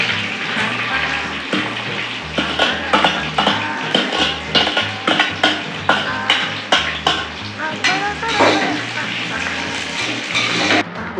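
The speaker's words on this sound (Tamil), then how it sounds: "வெங்காயம் பச்சை மிளகாய் போட்டுக்கலாம்." Onions and green chilies fry in a pan for chicken biryani, giving a loud, steady sizzle with frequent rhythmic stirring and scraping knocks.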